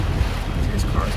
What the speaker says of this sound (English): Ooh, it was really, really windy.